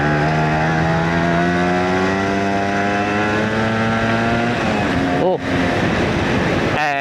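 A Suzuki A100 motorcycle engine runs under load in third gear, a loud sustained drone whose pitch rises steadily, then dips briefly as if shifting.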